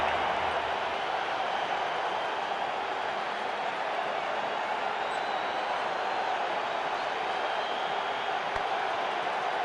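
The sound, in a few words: crowd cheering at cricket match after boundary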